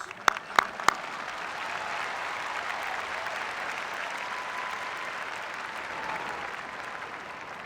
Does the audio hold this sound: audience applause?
yes